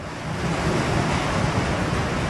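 A dense, steady roar of heavy rain pours without a break during a severe thunderstorm with pea-sized hail in Mineola, loud and enveloping, with no voices.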